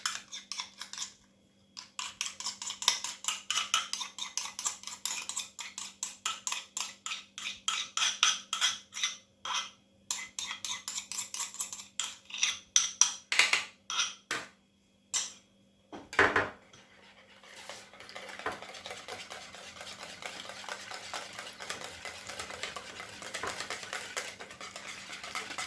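A utensil stirs crème fraîche into a mixture in a bowl for a ratatouille and goat cheese tart, with rapid rhythmic scraping and clinking strokes for about fifteen seconds, then softer intermittent stirring and a steady low hum.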